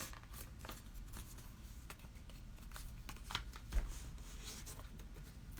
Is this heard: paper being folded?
yes